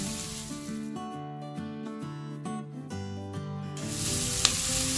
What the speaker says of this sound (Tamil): வெங்காயம் ஆட் பண்ணி வெங்காயம் நல்லா பொன்னிறமாக வதங்குற அளவு நல்லா வதக்கிறதுக்கலாம்